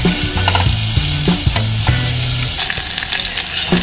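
Cumin and mustard seeds, onion and urad dal temper in hot oil with a loud, close crackling sizzle, plus irregular scrapes and taps of stirring throughout.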